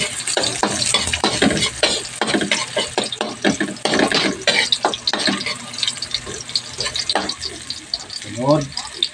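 Garlic and ginger fry in a pan for Bisaya-style chicken cooked in coconut milk with hot chili, with a steady oily sizzle broken by repeated scraping stir strokes and a brief liquid splash near the end.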